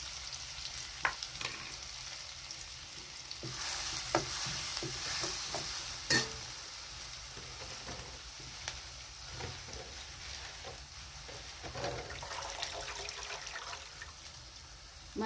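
Spice masala fries in hot oil in a kadhai with a constant soft sizzle, broken by intermittent scraping and clinks of a spoon stirring the pan close by.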